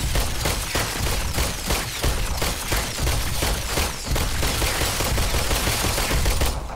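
Rapid, continuous gunfire in the PS VR shooter The Brookhaven Experiment: a loud, dense stream of closely spaced shots from a weapon with laser sights, with no talking.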